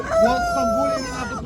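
Chickens at a poultry market, with a rooster's short crow-like call rising and falling over a brief clucking burst, near and fairly loud.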